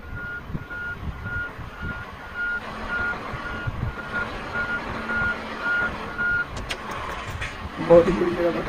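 A truck in Euro Truck Simulator 2 gives steady reversing beeps in an even rhythm, about a dozen evenly spaced tones under a low engine hum, while someone talks over them; the beeping stops near the end.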